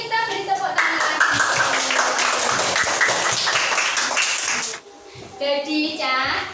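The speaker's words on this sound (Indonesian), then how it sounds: "Kita beri tepuk tangan lagi." Fourth-grade pupils in an Indonesian classroom clap their hands together in a lively burst lasting several seconds, then it stops abruptly and a voice follows with a few scattered claps.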